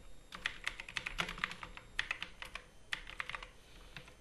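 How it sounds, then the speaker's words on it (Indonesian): Computer keyboard keys clack in quick clusters as Microsoft Word shortcut combinations are pressed, crisp and close with brief gaps between bursts; no speech. "yang ini saya tekan tombol tab, terus Ctrl key gitu ya"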